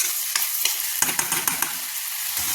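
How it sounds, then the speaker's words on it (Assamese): Kath aloo (yam) pieces fry in hot oil, a steady close sizzle with several scraping stirs at irregular intervals, no voices. "এয়া দেখিছেনে ইয়াত যে মই কাঠআলু ফ্ৰাই কৰি আছোঁ"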